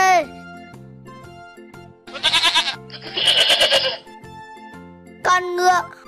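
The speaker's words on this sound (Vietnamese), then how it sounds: "Con dê." A goat bleats three times, each call loud and close with a rough, quavering edge, separated by pauses filled with light background music.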